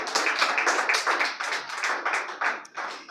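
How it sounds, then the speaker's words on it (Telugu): A church congregation clapping hands in steady rhythmic bursts, many hands striking together in a quick repeated beat, fairly close and continuous with no talking over it. "చప్పట్లు కొట్టి దేవుని మహిమపరచు."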